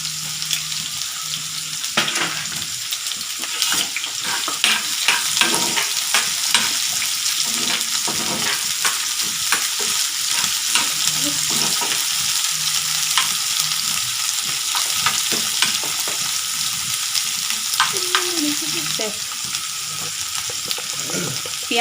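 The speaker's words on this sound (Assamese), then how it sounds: "মই এতিয়া ইয়াতে কাটি থোৱা পিঁয়াজখিনি দি দিম।" Chopped onions frying in hot oil for a dry fish chutney, a dense, continuous loud sizzle with scattered crackles and occasional stirring scrapes throughout.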